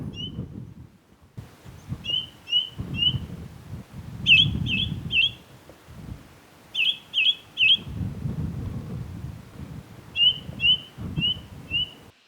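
A ring ouzel sings from a fence post in the Yorkshire Dales near Penyghent, giving short repeated clear piping notes in bursts of three or four, carried over steady outdoor wind rumble.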